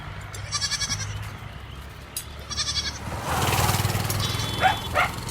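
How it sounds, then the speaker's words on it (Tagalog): A black goat bleats twice in wavering cries, followed by a louder, rougher stretch of outdoor noise with a few sharp, yelping calls near the end. "At may sumusunod na itim na kambing."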